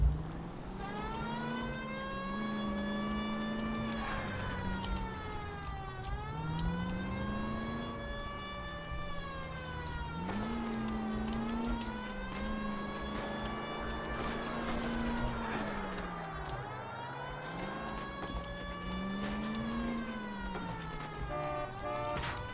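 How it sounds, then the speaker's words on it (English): A police car siren from the video game L.A. Noire wails continuously, rising and falling in long sweeping cycles, loud and steady without voices. "Have you got something against the siren?"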